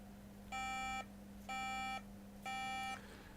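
Three identical electronic beeps from a MacBook (A1990) error code under repair sound at an even pace, each about half a second long, over a low steady hum.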